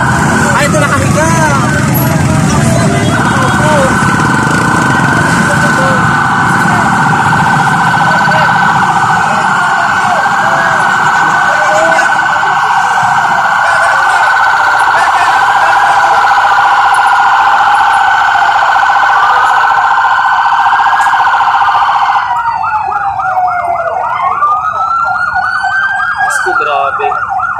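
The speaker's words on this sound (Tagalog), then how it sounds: "May ambulansya na guys." A loud, steady ambulance siren wails continuously, arriving at an accident scene involving a jeep with failed brakes, with people talking throughout and the siren pitch sweeping toward the end.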